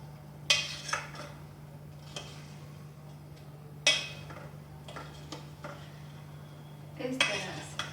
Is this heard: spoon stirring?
yes